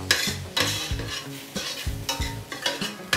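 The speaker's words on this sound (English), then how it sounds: "You can even hear it, like audibly, it's not as sizzly, it's not as sticking to the pan anymore." Browned vegetables sizzle and fry in a pan after a splash of red wine vinegar, with repeated scraping stir strokes of a utensil against the pan in an irregular rhythm, close and fairly loud, no voices.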